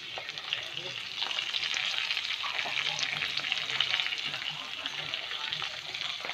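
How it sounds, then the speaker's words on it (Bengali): Potatoes frying in a little oil in a cooker pot for mutton curry, a dense, steady sizzle close up, with faint stirring throughout. "এখন আলুটা খালি ভেজে নেব"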